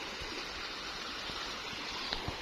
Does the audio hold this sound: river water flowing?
yes